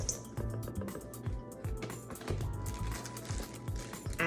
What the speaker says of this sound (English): Pour it into a bowl.